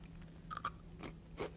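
Salt and vinegar potato chips crunch between the teeth in a few sharp, close bites, quiet and alone with no talking.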